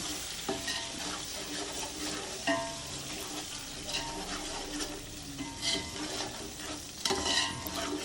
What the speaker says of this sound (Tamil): கொத்தமல்லி இதை போட்டு நீங்கள் வந்து ஒரு ten seconds to fifteen seconds வதக்கணும்